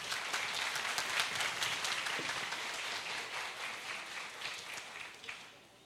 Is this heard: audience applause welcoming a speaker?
yes